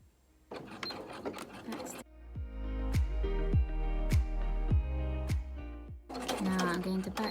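A sewing machine runs steadily for several seconds stitching a half-inch seam in lining fabric for a zippered box pouch, with short back-stitch bursts; talk comes before and after the machine run.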